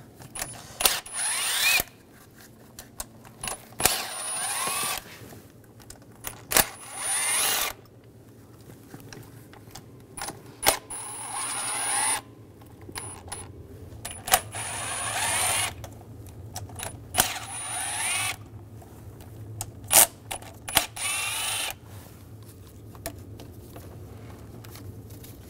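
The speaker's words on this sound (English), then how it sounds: "Using a E10 socket, we're gonna take all the manifold bolts out." A ratchet with an E10 socket works loose the exhaust manifold bolts on a 2006-2009 Mercedes-Benz E350 with a 3.5L V6, giving repeated short clicking bursts separated by pauses, close by, with a low steady hum underneath.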